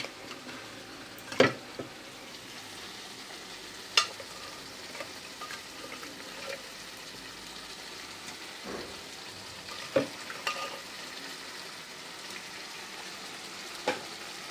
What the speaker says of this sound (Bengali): দেখো আমার এই সিদ্ধ করা মটন এক এক করে আমি দিয়ে দেবো কড়ার মধ্যে।